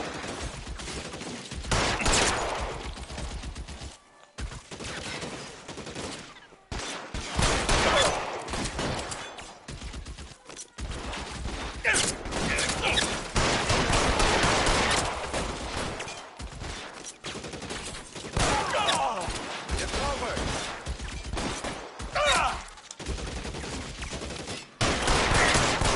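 Rapid bursts of gunfire from an L.A. Noire shootout, dense volleys and single shots recurring across the whole stretch, loud and close with short pauses between exchanges.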